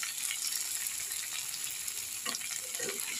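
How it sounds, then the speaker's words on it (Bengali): Eggs frying in oil in a kitchen pan while cooking egg kosha, a steady close crackling sizzle throughout with a few brief stirring or scraping sounds near the end. "একটু ডিমের কষা করছি।"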